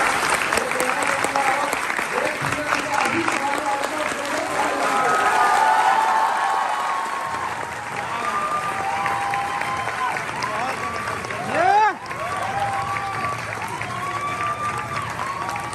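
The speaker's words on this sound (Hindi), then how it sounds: "आपकी पुरजोर तालियों की सहयोग चाहूंगा, जोरदार तालियां।" Loud, sustained applause from an audience in a hall fills the stretch, steady clapping with some crowd noise, tapering slightly near the end.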